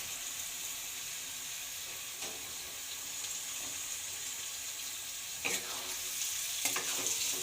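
Potatoes stirred into hot oil in a pan for a spicy aloo curry, giving a steady soft sizzle with a few brief scraping and clinking bursts near the end, no voices.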